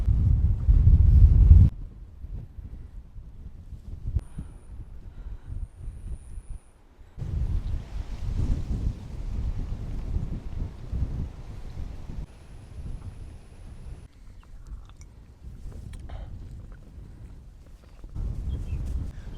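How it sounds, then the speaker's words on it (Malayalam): Steady low rumble of strong, cold wind buffeting the microphone outdoors on misty hills, gusting louder at the start and continuing with uneven strength throughout. "നല്ല കാറ്റാണ് വീശി വരുന്നത് നല്ല തണുത്ത കാറ്റ്"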